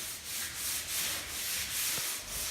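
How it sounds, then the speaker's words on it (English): Sanding of wood trim by hand, with rhythmic back-and-forth rubbing strokes repeating about every half second, close and fairly quiet. "Sanding these areas by hand"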